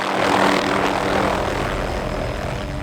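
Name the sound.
aircraft flying over woods during moose collaring hunt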